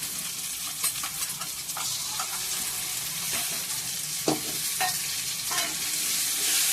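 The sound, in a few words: stirring raw mango frying with onions in a pan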